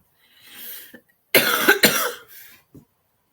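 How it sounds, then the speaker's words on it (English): A person in a coughing fit: a soft cough, a short pause, then a loud cluster of harsh, close coughs that trails off, followed by one small final cough. "Oh, of all the times to get a coughing fit, this is not a good time."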